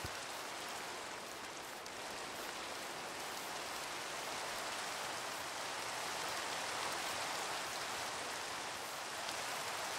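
Minecraft rain pours steadily as an even, soft hiss of falling drops, unbroken and fairly faint, with no talking.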